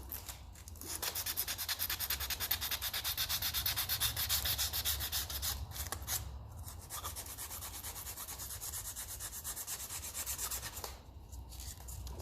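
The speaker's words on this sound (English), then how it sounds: "So we'll get some sandpaper and give that a clean" Sandpaper rubbed steadily over an aluminium casting from a 1954 Ferguson TEF 20 diesel tractor. The rasping strokes are close and continuous, with two brief pauses, and no one speaks.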